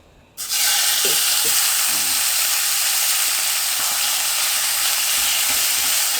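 Green onions hit a hot pan for sukiyaki and burst into a loud, sustained sizzle, with a few faint utensil clicks beneath the steady hiss.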